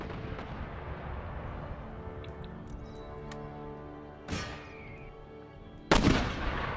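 Artillery fires shrapnel shot in Empire: Total War, with two heavy booming blasts a couple of seconds apart over a constant low battlefield rumble.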